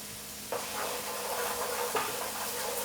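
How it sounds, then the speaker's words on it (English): Cauliflower, potato and tomato with spices sizzle steadily in a pan while being stirred, a soft continuous hiss broken by a couple of scraping knocks. "So just stir it around a little bit."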